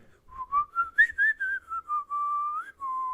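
Someone whistles a pop melody, a run of clear, close, sustained and slurred notes with short gaps, alone without talk.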